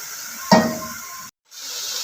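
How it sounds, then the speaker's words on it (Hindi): Chicken keema frying with masala in a pan: a sudden loud sizzling burst as water is added, fading back to a softer steady frying hiss, with a brief dropout to silence partway through. "इसमें मैं पानी शामिल करूंगी और इसको भूनती रहूंगी।"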